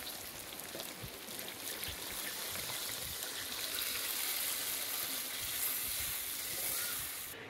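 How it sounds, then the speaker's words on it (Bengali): Water poured into a pan of prawn curry cooking in a village kitchen makes a steady, close hiss and bubbling sizzle with no voices. "লাল লাল করে নিচ্ছি, একটু দিয়ে দিই জলটা"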